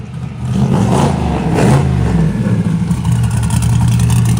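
A no prep 4x4 NASCAR truck engine on a race track, a loud, close engine rumble rising and holding as it warms up, with no voices.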